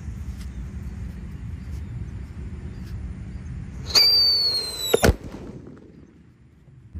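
A Whistling Thunder firework lit in a hole in the ground gives a loud rising whistle, then a sharp bang about a second later, over a steady background hum.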